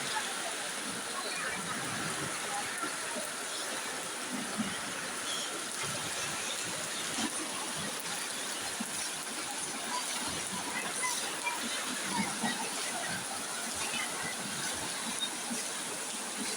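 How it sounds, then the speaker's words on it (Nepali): Rushing flood water surges in a constant roar, steady and fairly close, with a turbulent churning texture throughout. "अझै पानी तीव्र गतिमा बढ्दैछ"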